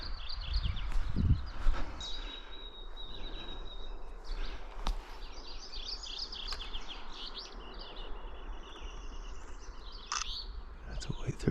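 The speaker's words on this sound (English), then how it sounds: "That's a white-throated sparrow." A white-throated sparrow sings a thin, high whistled note in a Nova Scotia woodland, faint and somewhat distant, with other soft bird chirps and a low rumble and handling noise early on.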